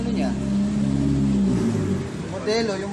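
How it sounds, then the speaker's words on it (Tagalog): A motorcycle engine revs on a workbench or in a shop, a steady mid-pitched drone that drops off near the end, with someone talking over it. "Ito yung makina ni Direk Medel"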